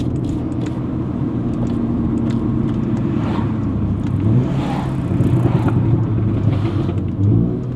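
An Audi S3 converted to rear-wheel drive is heard from inside on an icy back road with the window partly down, its engine rumbling steadily while scattered exhaust pops and crackles break through in the second half.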